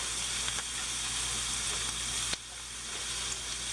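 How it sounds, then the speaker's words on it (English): Shredded cabbage with onion sizzles in a pan, a steady, even frying hiss that runs throughout at low level, with a few faint clicks and a small shift partway through. "we're going to cook this for about 5 minutes until the cabbage starts to wilt"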